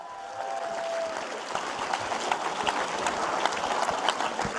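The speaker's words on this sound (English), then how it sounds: "Let's get another round of applause for Justice Chandler, everybody" An audience applauds, a dense continuous patter of many hands clapping, steady and fairly loud throughout.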